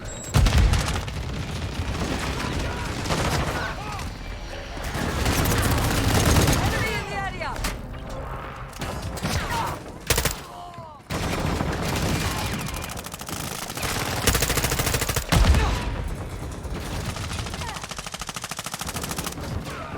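Gunship gunfire in an online military shooter, sustained rapid bursts of automatic fire and booming impacts rolling on nearly continuously, with game voices and players talking over the din.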